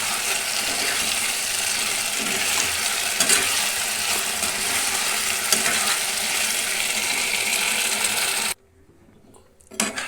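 Chicken pieces for chilli chicken fried and stirred in a pan: a loud, dense sizzle with stirring scrapes runs steadily, then cuts off abruptly near the end, leaving faint clatter.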